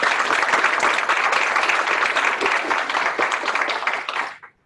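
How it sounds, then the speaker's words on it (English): Loud, dense applause from an audience thanking a speaker, sustained and steady before cutting off sharply at the end. "let's give Dr. Cohen a round of applause."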